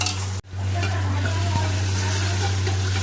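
Food sautés loudly in a hot pan with a dense, continuous sizzle and stirring scrapes, cut by one brief pause near the start, with a steady hum underneath.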